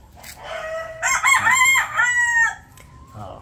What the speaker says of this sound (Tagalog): Pakinig niyo yung putak na yan